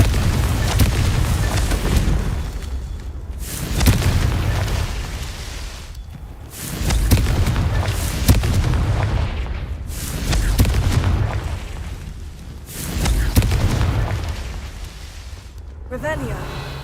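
Repeated Confringo spell explosions in Hogwarts Legacy, several loud booming blasts a few seconds apart, each swelling and fading, with spoken lines between them.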